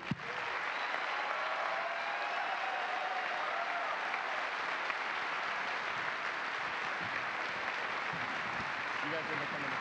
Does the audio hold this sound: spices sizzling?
no